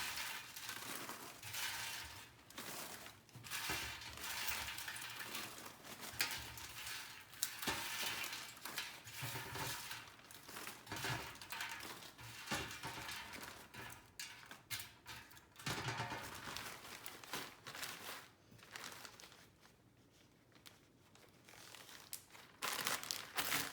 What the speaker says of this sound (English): Chili peppers in the Ziploc bag.